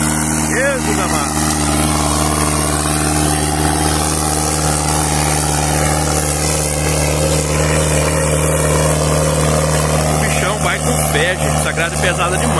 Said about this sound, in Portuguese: Essa grade é pesada demais pra esse trator.